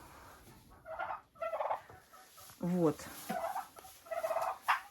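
Grain-fed domestic turkeys gobble in several short, rattling bursts spread over a few seconds. The calls are fairly close, and a voice briefly says a word between them.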